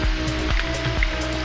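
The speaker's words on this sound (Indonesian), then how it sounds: "welcome to Uma Anyar Waterfall" Waterfall at Uma Anyar in Gianyar, Bali: a steady, broad rush of falling water with scattered splashes, heard continuously and fairly close, with no talk over it.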